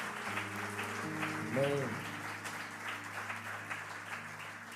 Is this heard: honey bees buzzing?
no